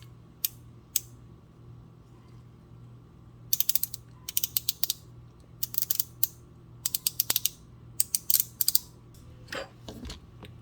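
A rotator-style rotating ratchet clicks in quick bursts of rapid pawl ticks, separated by brief pauses. The clicking is close and crisp against a quiet background hum.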